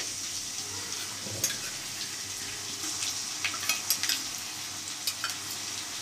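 Ginger garlic paste with curry leaves frying in a pan for a Keelakarai chicken gravy, a soft, steady sizzle broken by sharp clicks of stirring.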